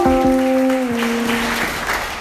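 A church congregation at an Anglican service applauding, a dense steady patter of many hands under a sustained tonal hum, continuing throughout.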